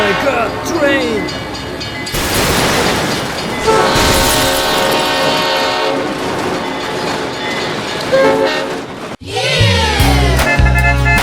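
A loud train horn blares repeatedly in a BeamNG monster truck racing game, long sustained blasts over rumbling rail and engine noise, cut by a brief drop before another horn burst returns.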